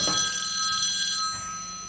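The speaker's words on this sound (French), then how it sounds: "C'est une sonnette." A doorbell rings with a sustained, bright electronic tone that holds steady and then fades slightly toward the end, sounding alone with no voices.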